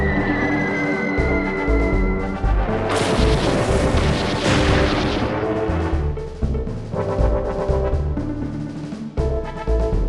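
Booming explosions from Allied air attacks on bridges across France in European Air War, heavy rumbling blasts and crashes layered over a dense, continuous war din.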